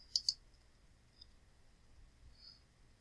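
Two quick, crisp computer mouse clicks sound close together at the start, with a faint tick later against a quiet room background.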